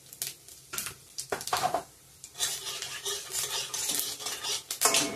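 Whole cumin seeds, bay leaves and dried chilies fry in hot oil, first with scattered clatters of a spoon in the pan, then a loud, continuous sizzle with scraping stirs.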